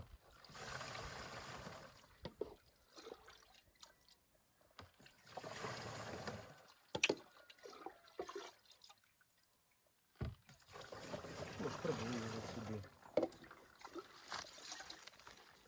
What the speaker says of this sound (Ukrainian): ми зараз Трішечки з бочки наберемо, а потім будемо набирати відром